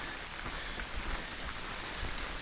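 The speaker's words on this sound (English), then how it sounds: "Walking in the rain." Rain in the Julian Alps mountains heard while walking through a forest: a steady, fairly loud hiss of falling drops with a soft low rumble beneath, continuous throughout.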